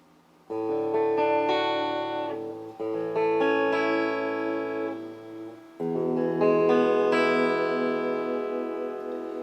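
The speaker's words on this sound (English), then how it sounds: "So what you're hearing is directly out of my amp." Clean electric guitar chords from a Monoprice Classic 66 V2 played straight into an amp with effects off ring out in three strummed phrases, each sustained and bright with no audible distortion, played alone and fairly loud.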